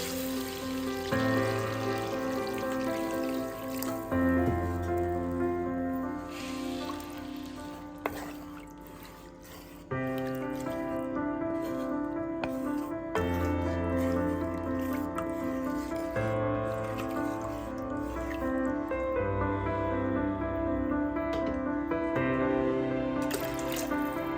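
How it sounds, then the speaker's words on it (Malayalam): Water pours steadily into a Kerala-style fish curry of varal fish cooking in a pot, a continuous splashing stream with shifting pitch that runs the whole time, briefly interrupted partway through, with no voices over it. "ആവശ്യത്തിന് വെള്ളം ചേർത്ത് കൊടുക്കാം."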